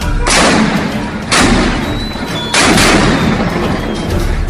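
Cannon fire as a dramatic sound effect in a retelling of Dutch troops at a Brazilian fort in Santa Catarina: two heavy booming blasts, each followed by a long rumbling decay, loud and close.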